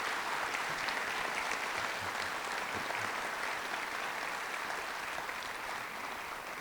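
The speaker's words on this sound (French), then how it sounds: "j'aimerais que vous les applaudissiez parce que nous avons des agents exceptionnels" A hall audience at a mayor's New Year greeting in Yerres applauds municipal staff, a continuous even wash of clapping at moderate distance, fairly quiet and sustained without a break.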